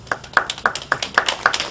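A few quick, evenly spaced hand claps, about seven in under two seconds, from a small group at a school board meeting.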